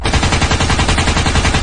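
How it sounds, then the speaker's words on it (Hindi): Cartoon zombies fire guns in a loud, continuous burst of rapid automatic gunfire, dense rattling shots running through the whole stretch with no pauses or voices. "बाकी सारे ज़ॉम्बीज भी गुल्ली बुली सोन पर गोलियां चलाना स्टार्ट कर देते हैं।"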